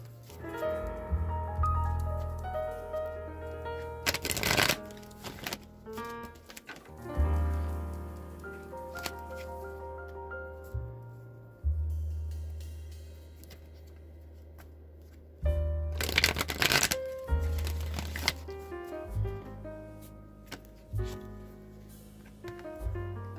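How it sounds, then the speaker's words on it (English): Oracle cards being shuffled in several quick riffling bursts, close and crisp, over a soft, steady musical background with no talking. "I'm going to go ahead and shuffle the Wisdom of the Oracle"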